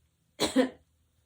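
A single short allergic cough, close and clear, in an otherwise quiet setting.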